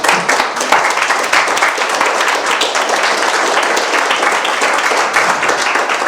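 Dense, lively applause from the audience after a French-language conference talk on temperaments, close and full with sharp individual claps, sustained evenly for about six seconds without any speech.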